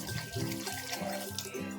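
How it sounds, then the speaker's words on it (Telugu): A glass of water is poured into a mixer jar holding a sweet recipe batter with a pinch of salt, making a short splashing, gurgling pour close by, heard alone. "ఇప్పుడు మనం చిట్కెడు సాల్ట్ వేసుకుందాం అలాగే మనం ఒక గ్లాస్ నీళ్ళు అయితే వేసుకుందాం"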